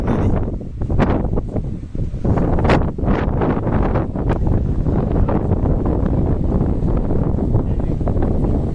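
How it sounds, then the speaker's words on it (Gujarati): Strong gusty wind at Nagoa Beach, Diu, buffeting the microphone in loud, rough bursts, with no clear voices over it. "પવન વધારે આવતો છે પવન ફૂલ છે અત્યારે"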